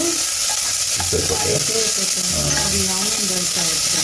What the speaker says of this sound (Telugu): కొద్దిగా రంగు మారేదాకా ఉల్లిపాయని వేసేసి